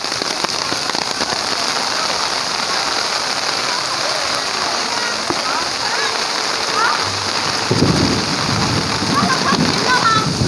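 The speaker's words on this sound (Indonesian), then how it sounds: "Hujan deras guys" Heavy rain pours steadily over an outdoor theme park at Universal Studios Singapore, a dense continuous hiss of drops splashing on hard surfaces, with voices faintly heard under the downpour.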